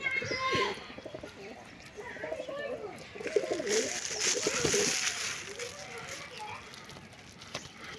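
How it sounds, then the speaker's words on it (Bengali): Pigeons coo softly in low, rolling calls, with a few chirps and some rustling, close by in a quiet space. "বন্ধুরা দেখতে পাচ্ছ এইগুলো নতুন পায়রা"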